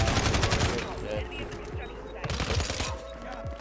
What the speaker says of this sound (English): This guy's shooting out over here.